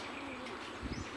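Pigeons kept in an enclosure coo softly and steadily, with a slightly louder low burst near the end and faint chirps over background noise.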